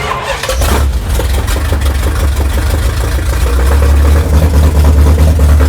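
A Dodge Charger engine cranks and catches, then settles into a loud, steady rumbling idle with some uneven revving, close by and continuous.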